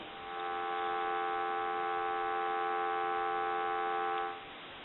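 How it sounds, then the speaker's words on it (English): A steady electronic payphone dial tone sounds for about four seconds, then cuts off, leaving a faint line hiss. "Go ahead and give you some dial tone."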